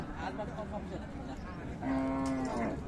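A cow at a busy rural cattle market moos once, loud and drawn out, over steady crowd noise and someone talking nearby.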